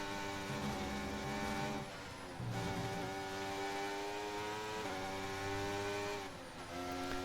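Formula 1 car engine in the F1 2023 racing game, a sustained high-pitched whine climbing through gears with brief dips at shifts, steady and loud, racing close behind a rival.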